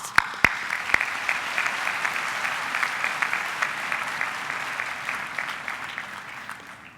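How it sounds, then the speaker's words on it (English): Audience applause at an autumn university graduation ceremony: sustained, even clapping from a large crowd, a few sharp nearby claps at the start, slowly fading toward the end. "Let's say goodbye with another round of applause, please"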